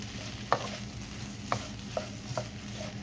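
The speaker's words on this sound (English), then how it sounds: "So we're just going to stir this up until the rice is warm." A spoon scrapes and stirs rice in a warm pan for an Asian unfried rice dish, giving four or five distinct clacks and scrapes at irregular intervals over a soft steady background hum, close by with no talking.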